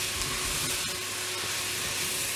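Onions fry in a saucepan for onion soup, giving a steady, dense sizzle that stays loud and even throughout.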